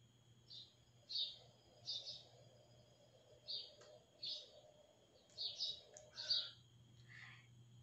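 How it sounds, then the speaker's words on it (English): Short bird chirps in quick clusters, several bursts spread across the clip over a steady low hum, fairly faint and distant. "it is the bird chirping."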